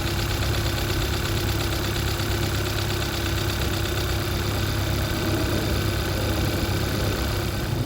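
A 2014 Kia Soul engine idles after an alternator replacement, a steady, even hum and drone that holds unchanged from start to end with no voices.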